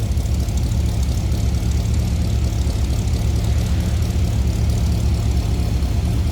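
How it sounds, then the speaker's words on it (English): A low, steady rumble from a 1957 Ford Fairlane's 312 V8 engine idles continuously, close and even, with no voices over it. "Hey, listen to this. There's a little rumble."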